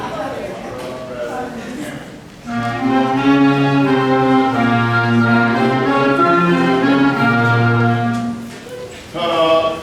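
Oboes play a sustained reedy melody of several held notes, full and nasal in tone, entering after a brief pause over a soft background.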